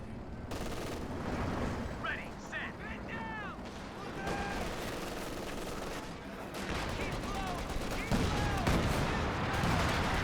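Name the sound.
Katyusha rocket artillery barrage in a video game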